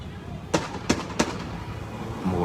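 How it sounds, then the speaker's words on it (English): Three sharp gunshots crack in quick succession outside a bank during a protest, heard from a distance over low background noise. "More gunshots."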